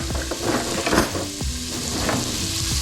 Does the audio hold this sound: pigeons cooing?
no